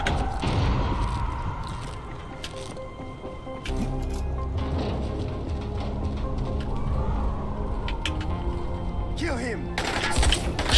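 Rapid bursts of gunfire from the zombie survival game Dying Light rattle through a dense, busy mix of effects, with a voice talking faintly underneath and a sharper burst near the end.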